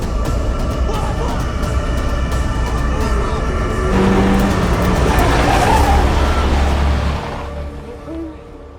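A car approaches under a steady engine drone that swells louder and broader as it closes in, then cuts off abruptly and leaves quieter ambience behind.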